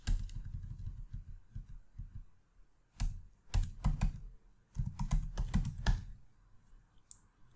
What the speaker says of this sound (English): we can open up a new tab and type SSH root at localhost